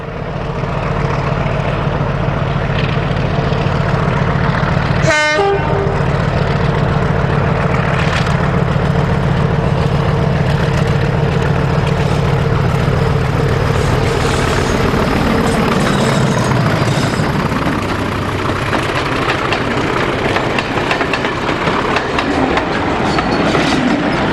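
A British Rail Class 40 diesel locomotive climbs Kelling Bank on the North Norfolk Railway, its engine a loud, continuous, labouring roar. A sharp clank sounds early, and wheel and rail noise runs beneath.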